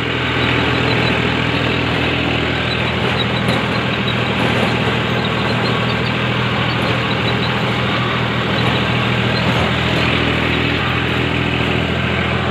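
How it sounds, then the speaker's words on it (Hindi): A John Deere 5310 tractor engine works hard pulling an 8 ft rotavator in a wheat field, a loud, steady, unbroken drone with rough low rumble running throughout, no voices over it. "ये अब दूसरा का मीडियम में चल रहा है ट्रैक्टर"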